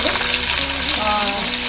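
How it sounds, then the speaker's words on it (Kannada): Onion and ginger sizzle steadily in a pan over a medium flame for a ragi upma, a dense continuous frying hiss with no pauses and no voices. "ಮತ್ತು ಈರುಳ್ಳಿ, ಶುಂಠಿನೂ ಇಲ್ಲೇ ಹಾಕ್ತಿದ್ದೀನಿ. ಹಾಕಿ ಸ್ವಲ್ಪ ಫ್ಲೇಮು ಮೀಡಿಯಮಲ್ಲಿ ಇಟ್ಕೊಂಡು"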